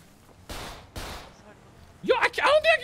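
Two loud gunshots ring out in a GTA 5 roleplay shootout, one at about half a second and another a beat later, each with a broad burst and decaying tail, followed by someone talking.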